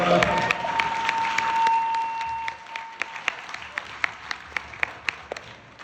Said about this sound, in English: and Jacki deserves a round of applause because she's been at this since the John Anderson campaign in 1980